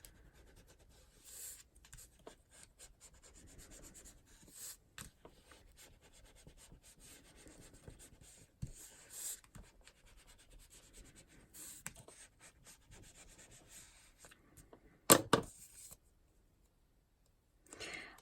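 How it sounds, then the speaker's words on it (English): Paper being burnished down over a paper clip in a craft project, heard as faint, intermittent close rubbing and scraping strokes with a few louder scuffs near the end. "I just want to get into the groove of the paper clip to try and make sure it's burnished down."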